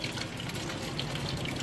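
Water running and churning at a sink where a child is brushing teeth, a short, steady, fairly quiet wash of liquid sound with no distinct individual splashes.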